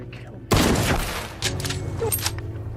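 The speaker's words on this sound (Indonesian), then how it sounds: "John memberikan tembakan peringatan dekat ke arah kaki Ben" A rifle fires a warning shot near someone's feet in a film, one sharp loud blast with a ringing tail, followed by further thuds and background sounds.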